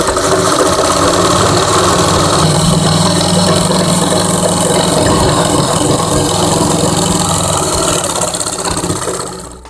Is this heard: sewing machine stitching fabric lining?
yes